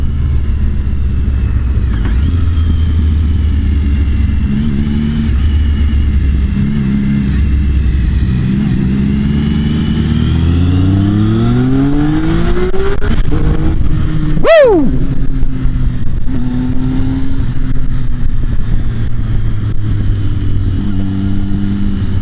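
A Triumph Speed Triple motorcycle under way, its exhaust growling loudly and steadily as the engine revs climb and drop through gear changes, with a brief sharp sweep near the end and a faint whine running underneath.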